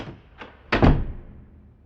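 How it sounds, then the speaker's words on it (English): A door slammed shut inside an apartment: a faint knock, then one loud, close thud with a short echoing tail, heard alone without talk. "I storm into the apartment and slam the door behind me"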